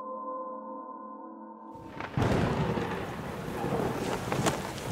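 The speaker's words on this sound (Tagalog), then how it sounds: "hindi titigil ang pagbuhos ng ulan" Pouring rain bursts in suddenly after a low droning tone cuts out, becoming a loud, dense, continuous wash with gusty rumble.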